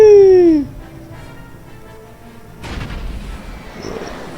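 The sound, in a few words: explosion in a video game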